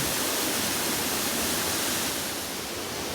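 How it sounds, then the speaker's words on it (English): Waterfall beside a remote mountain road in Oregon, a steady, dense rush of falling water filling the scene at close range, continuous and even with no voices. "We came upon this awesome waterfall, which Laney is now exploring"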